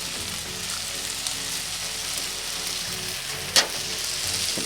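Fresh farm eggs frying on a Weber Slate griddle, a steady, even sizzle with no break, heard close up with one brief louder tap near the end.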